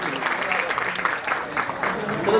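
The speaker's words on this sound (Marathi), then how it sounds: "त्यांच्यासाठी जोरदार एक टाळ्या होऊन जाऊया" Audience applause at a road-safety awareness event at a college, a steady, dense patter of clapping from a crowd that fills the room and continues without a break.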